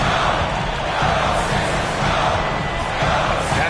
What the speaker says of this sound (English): The crowd is on edge.